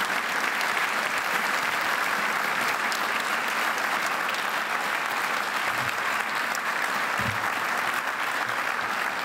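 A full hall of people applauding steadily for Claire Denis at the Trophées Francophones du Cinéma 2017 awards ceremony, a dense even wash of clapping sustained throughout without pause.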